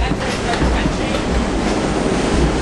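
Train rolling along the rails near Effingham, a steady loud rumble with continuous broadband rattle throughout, no voices over it.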